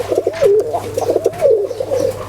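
Running pigeons sitting on eggs coo close by, a series of soft, rolling throaty calls repeating in short bursts with brief gaps between them.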